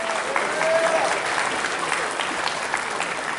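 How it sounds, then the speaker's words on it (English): Convention crowd giving a big round of applause, a sustained, fairly loud wash of many hands clapping with a faint tone briefly riding over it early on. "big round of applause to Blitz for going through all that effort"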